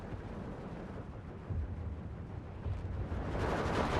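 Mortar fire in the WW2 strategy game Steel Division 2, heard as a continuous, heavy rumble of blasts and booms that builds louder toward the end, with no talk over it.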